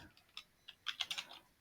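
A computer keyboard clicks in a short, uneven run of light keystrokes, close and fairly quiet with no voice.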